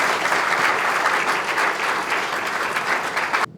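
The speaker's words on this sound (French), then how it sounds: "Allez, un tonnerre d'applaudissements." A large audience bursts into a thunderous round of applause, dense steady clapping that fills the room for a few seconds before cutting off abruptly.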